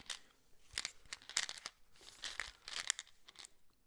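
Close, quiet crinkling of a chewing gum packet, irregular bursts of rustling and crackling as it is handled and opened.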